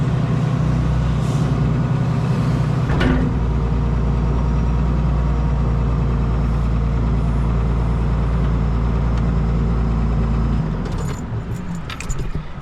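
A heavy hauler truck idles while parking, a loud, steady, deep engine drone. A brief hiss and a clatter of keys sound near the end as the engine drops.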